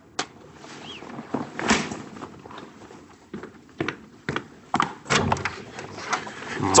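A door being answered and opened indoors in a TV drama scene, with faint handling clicks followed by a series of knocks, thumps and a latch clatter.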